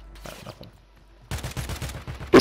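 Gunfire in a shooter video game opens as a quiet, scattered patter. It then breaks into a rapid burst of loud, close shots fired in quick succession.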